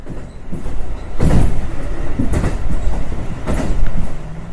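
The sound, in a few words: train running on the Rumoi Main Line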